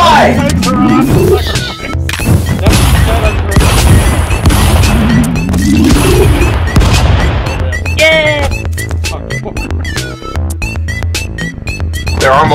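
Gunfire and explosions in the brawler game Stick Fight: The Game, with several guns in play. Dense, loud booms and rapid shots crowd together almost without pause, with excited voices in the mix.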